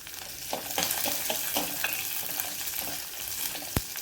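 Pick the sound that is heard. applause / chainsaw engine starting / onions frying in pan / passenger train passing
onions frying in pan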